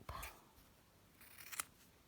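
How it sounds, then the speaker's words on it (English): Scissors snipping through a strip of felt for doll and teddy hair accessories, two quiet close cuts, one at the start and one near the end, with near silence between. "And then I'm going to cut a strip."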